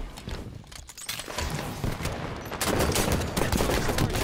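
Rapid, crackling bursts of gunfire in a video game arena match, including pistol shots, running dense and steady at moderate level across the whole stretch with a busier second half.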